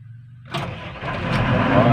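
The diesel engine of a Liugong CLG4165 motor grader cranks and catches, building from quiet into a loud, rough, steady rumble at close range, with a voice briefly audible near the start.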